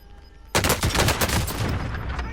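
Rapid video game gunfire breaks out suddenly, a dense burst of overlapping automatic shots and impacts that keeps rattling on loudly, with no speech.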